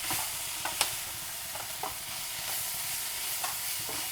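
Food fries in a pan of hot oil during lunch preparation, giving a steady, fairly quiet sizzle with occasional sharp pops and crackles.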